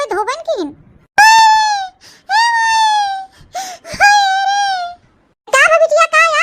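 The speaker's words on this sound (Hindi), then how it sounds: "का बिटिया का या काहे रोवत हो?" A girl cries in loud, drawn-out wailing bursts broken by sharp gasps and sobbing breaths, close and alone, with short pauses between each wail.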